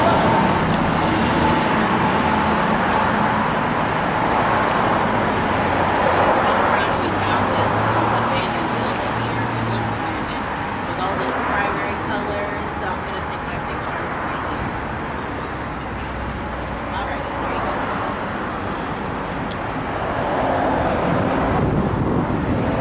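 Continuous city street traffic in Charlotte, North Carolina: a dense, steady roar of passing cars and buses close by, holding an even loudness throughout.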